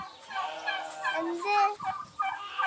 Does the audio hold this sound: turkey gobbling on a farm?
yes